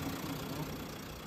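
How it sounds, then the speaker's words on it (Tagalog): A car engine idling steadily at close range, a short continuous low hum with no talk over it. "maganda yung tunog ng makina"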